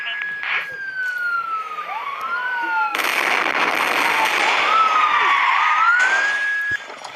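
A police car siren wails in a video game, its rising and falling tone sweeping up and down over loud crackling bursts and noise, with a voice briefly heard amid the din.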